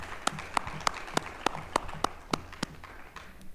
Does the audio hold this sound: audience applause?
yes